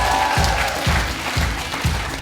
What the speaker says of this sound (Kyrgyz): Кайрат Кыргызга кол чабуулар